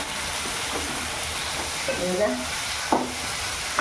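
Ginger garlic paste fries in a pan with a continuous soft sizzle and hiss, while a few faint tonal clinks or squeaks cut through near the end.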